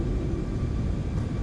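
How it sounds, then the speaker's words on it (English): Steady low rumble of a PMDG 737 nose wheel rubbing during a flight simulator takeoff roll, continuous and dense with no break, no voices over it. "I can hear that nose wheel rubbing again."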